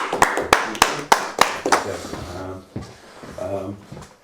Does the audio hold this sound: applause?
yes